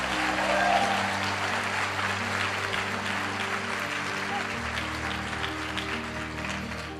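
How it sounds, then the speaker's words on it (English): A motivational talk audience applauds itself in a hall, a dense wash of clapping that stays steady under a low sustained musical drone. "Give yourselves a round of applause."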